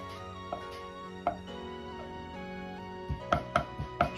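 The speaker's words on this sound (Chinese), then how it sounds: "偏粗的一定要剁细点" A knife chops meat into fine mince on a board for a home-style tofu dish. A few sparse, sharp chops give way to a quicker run of about six crisp hits near the end, all over steady background music.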